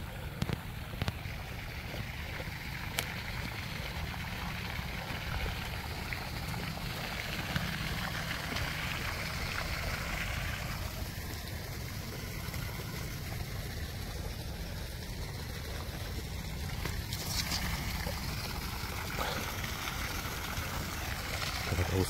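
Water gushes steadily from an irrigation pipe into a sugarcane field, a continuous broadband rushing and splashing that stays even and fairly close throughout, with no talk.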